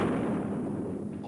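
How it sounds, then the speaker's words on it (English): A cannon fires with a deep, heavy roar, one sustained low rumbling boom that fills the short moment and slowly fades. "capable of hearing the roar of a cannon"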